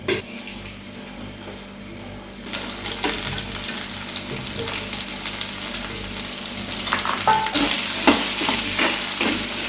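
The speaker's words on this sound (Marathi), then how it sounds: "तर हे आपण तेलामध्ये पहिले फ्राय करून घेऊया।" Finely chopped okra fries in hot oil in a pan, a steady close sizzle that swells louder partway through, with stirring scrapes and light clinks of utensil against pan.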